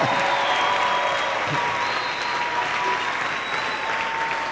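A church congregation applauding steadily, a dense continuous wash of clapping from a large crowd that holds at an even level throughout, with faint cheering mixed in.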